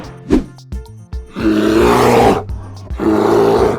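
A deep animal roar presented as a bear in a children's animal sound guessing game, with a short grunt followed by two long, loud, rough roars separated by a brief pause.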